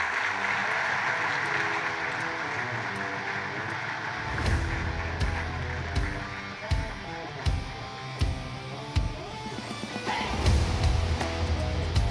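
An audience claps for the mayor of Muğla Metropolitan Municipality at a digital transformation launch event. Dense, sustained clapping runs under loud rhythmic thumping music for about twelve seconds.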